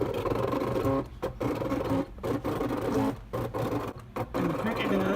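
A Cricut Expression machine cuts paper embellishments with a whirring mechanical buzz, running in short bursts broken by brief pauses as the carriage shifts.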